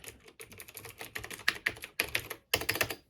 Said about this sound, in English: You have a full size keyboard here, which, oh, listen to that.